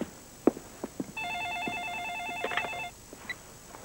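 A landline telephone rings indoors with a single electronic warbling burst, preceded and followed by faint footsteps and small handling noises in a quiet room.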